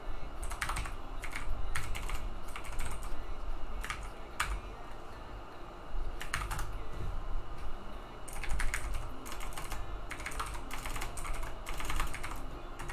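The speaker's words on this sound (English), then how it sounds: "wow, I really cannot type." Fast, uneven typing on a computer keyboard in a quiet room, key clicks coming in quick bursts separated by short pauses, close and fairly clear with no voices.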